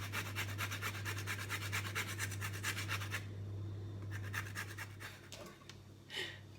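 A lemon rubbed against a zester for a tres leches cake, giving a rapid run of close, rhythmic rasping strokes for about three seconds before it tapers into a few softer scrapes.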